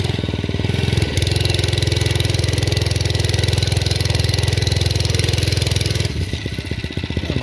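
A serviced MM80 motorcycle engine fires up and settles into a steady, loud idle with a rapid even putter close by, then the beat shifts and loosens near the end.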